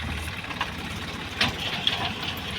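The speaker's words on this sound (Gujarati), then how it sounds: "ના ટ્રેક્ટર છે આપણું" A tractor engine runs at a steady idle nearby, a low continuous chug with a couple of faint clicks.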